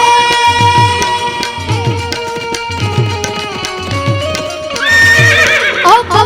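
A horse neighs in a long high whinny near the end, over a loud live folk performance with sustained harmonium-like tones and rhythmic percussion, at a Gujarati dayro music event.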